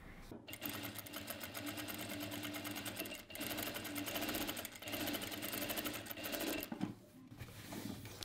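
A JACK 9100BA industrial sewing machine stitching fabric, a steady fast mechanical whirr that runs for several seconds, pauses briefly, then resumes, close and fairly even.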